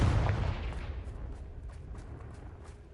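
A Confringo blast-curse explosion from a video game bursts with a heavy, booming impact and then rumbles and fades over a few seconds into a crackling tail.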